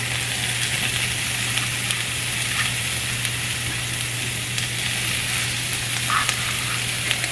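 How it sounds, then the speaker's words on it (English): Onions fry in oil in a pan at home, making a soft, even, continuous sizzle with a faint low hum underneath and occasional small ticks, no one talking. "I'm going to go ahead and put some oil in the pan. And then I'm going to go ahead and put the onions in."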